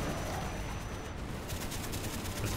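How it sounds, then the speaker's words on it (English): Continuous dense gunfire and battle noise from an aircraft strafing run in Call of Duty Black Ops, a steady loud barrage with no clear breaks. "Roger, X-ray, coming in for strafing run."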